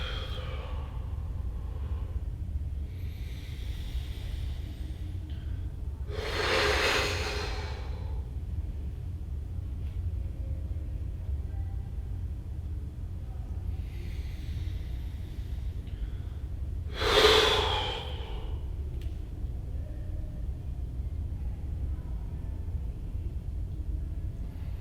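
Two deep, slow breaths during a morning yoga flow, each a long airy inhale or exhale roughly ten seconds apart, close and fairly soft over a low steady background rumble.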